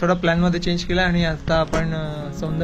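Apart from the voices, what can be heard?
No distinct noise like a dog, phone or traffic.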